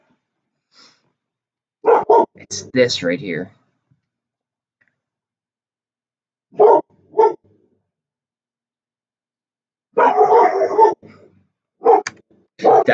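Trained watchdogs bark loudly in short, separated bursts, some single and some in quick clusters, with quiet gaps between them and a brief spoken remark mixed in.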